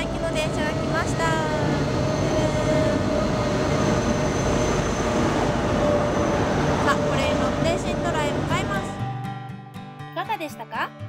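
A train bound for Sintra rolls into a Lisbon station with a heavy rumble, a steady whining tone and brief wheel squeals, fading as it slows near the end; voices are heard over it.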